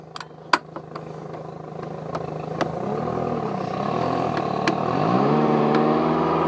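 Mercury outboard motor on a 2020 Mako 17 Pro skiff revving in neutral, a steady close engine drone that climbs in pitch toward the end, with a few sharp clicks and knocks early on.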